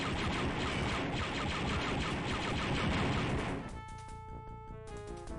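Rapid, dense retro video game gunfire from Star Wars Dark Forces, a loud continuous barrage of blasts that cuts off after about three and a half seconds into a quieter electronic tonal hum.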